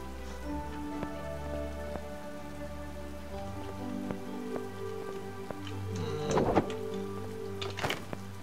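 Steady video-game rainfall in Mask of Mists patters on a surface with a low humming background, a few sharper splashes and knocks near the end; no speech.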